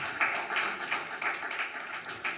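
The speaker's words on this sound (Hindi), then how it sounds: "तो तालियां जोर से" Audience applause at a Krishna Public School event in Bilaspur, Chhattisgarh, a steady patter of many hands clapping at moderate distance, slightly uneven in rhythm and carrying on without any talk.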